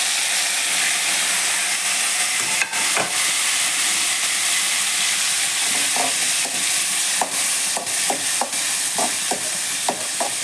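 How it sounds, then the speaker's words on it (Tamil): Onion, tomato and green chili hit hot oil for an egg curry base, giving a loud, steady sizzle with scattered sharp crackles and pops, close up, no talking. "வெங்காயம், தக்காளி, பச்சை மிளகா சேர்த்து போடணும்"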